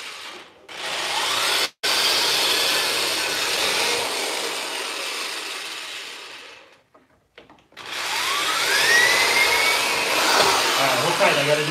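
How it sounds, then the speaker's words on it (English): A power drill runs in long, loud stretches while repairing a broken wooden entry table, with a brief pause and a rising whine as it spins up again near the end. "All right, I'm gonna drill for a second here."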